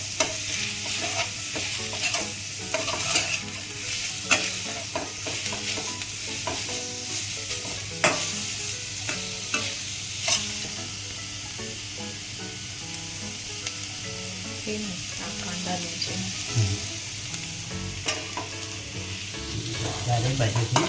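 Semolina and carrots stirred as they fry in a pan, a continuous sizzle broken by repeated scraping strokes of a spoon across the pan throughout, with no talking.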